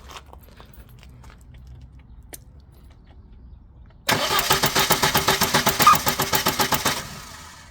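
A VAZ 2105 engine, originally 1.3 litre and converted to 1.6, is cranked and fires up with a compression tester fitted in place of the first spark plug, then runs with a loud, rhythmic, pulsing beat after several seconds of quiet.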